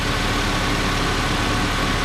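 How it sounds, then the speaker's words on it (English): A 2007 Ford Ranger's engine idles with a steady, unbroken rumble, close by and fairly loud, with no voices. "just let it idle, you'll be fine."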